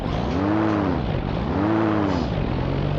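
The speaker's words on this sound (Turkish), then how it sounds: "çok güzel bir egzoz sesi var" Deep, continuous exhaust rumble from a Mercedes O403 bus engine in the video game Assetto Corsa, loud and steady, with a rising and falling drone as it revs.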